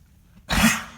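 A horse gives a single short, loud sneeze-like snort after a quiet moment, the burst trailing off over about half a second.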